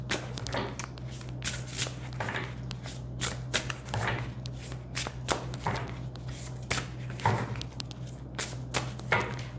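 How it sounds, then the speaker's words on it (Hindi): Tarot cards being shuffled by hand close up, a soft, repeated flutter of riffles and slides in irregular bursts against a quiet background hum. "पाइल 1 एंड पाइल 2 मैं यहाँ पे आपके सामने शफल करके रख रही हूँ।"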